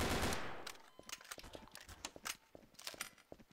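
Gunfire in Garry's Mod during a Purge round, a rapid burst of game shots with clattering sharp reports over about three seconds, fading from a loud opening blast into quicker, lighter pops.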